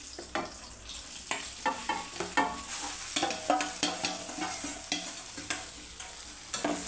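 Cooked rice being mixed into tamarind seasoning in a pan with the stove off gives a quick series of repeated scraping, clattering stirs under a faint sizzle.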